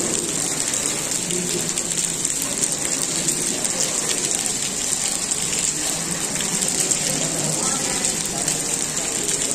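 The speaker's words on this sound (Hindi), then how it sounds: "इस वक्त बारिश भी हो रही है" Steady rain pours down outdoors at the Hazrat Abu Ayyub Al-Ansari shrine in Istanbul, Turkey, a dense continuous hiss and patter that stays even and fairly loud throughout, with no pauses.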